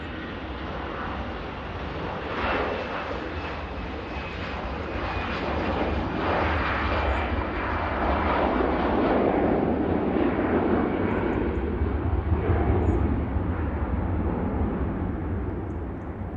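An airliner roars loudly and continuously as it departs Manchester Airport bound for Barcelona, a broad steady engine rumble with no voices over it.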